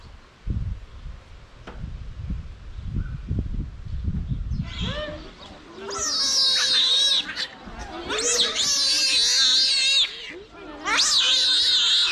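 Parrots perched along a railing and up high at a bird park give loud, harsh squawks and calls in repeated bursts over the second half, with rustling and low voices nearby earlier.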